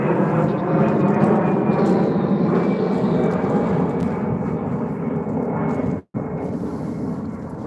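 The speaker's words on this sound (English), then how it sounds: "I'm letting the plane pass." A fixed-wing airplane passes overhead, its broad, steady engine rumble loud and sustained throughout, with a brief dropout near the end before the drone resumes.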